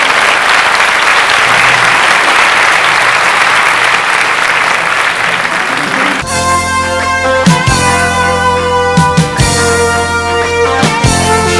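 Sustained loud applause rises from the audience at a 1990 road-safety rally evening. The clapping lasts about six seconds, then gives way abruptly to music with sharp percussive hits.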